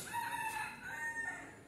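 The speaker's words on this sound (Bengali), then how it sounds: "মুরগির শব্দ শোনা যাচ্ছে" A rooster crows once at a village home, a faint, drawn-out call that rises and falls over soft background hiss.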